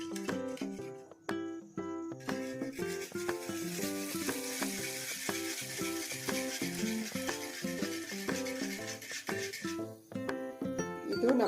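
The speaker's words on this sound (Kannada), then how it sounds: "ಈಗ ಎಣ್ಣೆ ಬಿಸಿಯಾಗಿದೆ. ಇವಾಗ ನಿಧಾನಾಗಿ ಇದನ್ನು ಹುಯ್ಯೋಣ." Egg mixture poured slowly into hot coconut oil for a grandma-style lemon egg chilli, giving a steady close sizzle that swells after the pour and runs throughout, with bright tonal notes sounding alongside.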